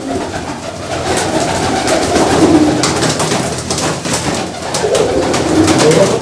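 A Mirawala breed pigeon coos loudly and close in repeated rolling phrases, with other birds calling and a busy background of chirps throughout.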